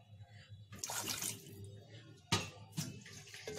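Half a cup of water is poured into a pan of frying spices, giving two bursts of sizzling, rushing liquid noise, close and fairly loud, with no talking.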